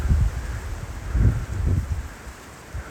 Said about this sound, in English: the wind's starting to pick up, guys